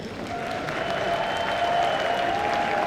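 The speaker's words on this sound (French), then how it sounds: "Je vous laisse l'applaudir" Steady audience applause fills a convention hall during a singing and dance contest, greeting a jury member; dense, continuous clapping with crowd murmur, loud and sustained throughout.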